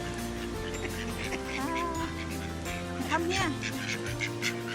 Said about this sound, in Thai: น้องเป็ดมารอเลย